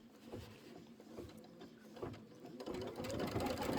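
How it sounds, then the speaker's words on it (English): A sewing machine stitches straight across quilt pieces in quick mechanical bursts, its rapid patter growing louder and steadier toward the end. "Stitch straight across."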